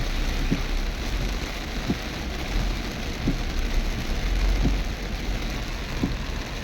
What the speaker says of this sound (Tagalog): Malakas ang ulan dito guys.